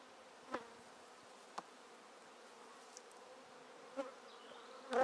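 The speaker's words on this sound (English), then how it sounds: "Flying bees are now beginning to find the entrance." Honeybees fly around the entrance of a wooden pagoda hive, a soft steady buzz with a few brief louder passes as individual bees come near.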